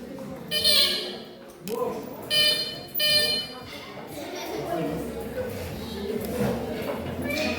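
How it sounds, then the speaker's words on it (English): Quiz buzzers at a math challenge are tested with several short harsh buzzes in quick succession, followed by overlapping voices talking in the room. "test out your buzzer"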